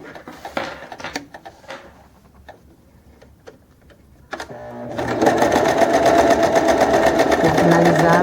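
A sewing machine runs a continuous zigzag stitch around a fabric bag with a blanket-lined wallet panel, a steady loud mechanical whir after a few quiet handling clicks and taps.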